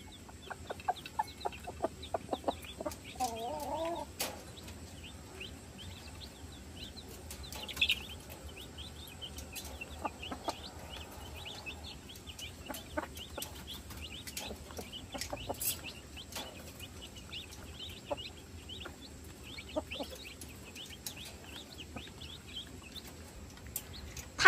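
A mother-hen-like fowl minding a dozen or so chicks near a feeding trough gives soft, scattered clucks at a distance, with faint chick peeps and small clicks over a quiet, steady background.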